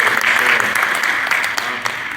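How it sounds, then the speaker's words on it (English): Steady applause from a room of attendees at a Greenwood Democratic Party meeting, bright continuous clapping carrying on for a couple of seconds with slight murmuring underneath. "let's give him a round of applause for that"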